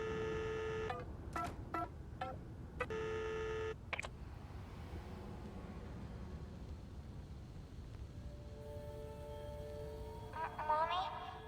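Telephone keypad tones in the COLINA: Legacy game, several short beeps in quick succession, with quieter tones and ambient hum following.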